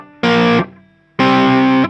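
Distorted electric guitar playing two loud, sustained power-chord stabs from a riff, separated by a short near-silent gap, close and alone without talking.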